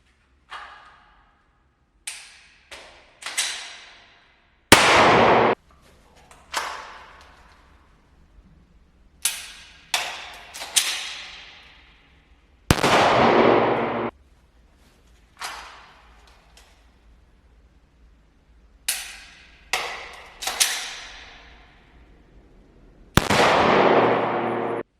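Handgun shots during a concealed-carry (EDC) shooting drill, fired in sharp separate reports and short clusters across the stretch, loud and close with ringing decays and no talk.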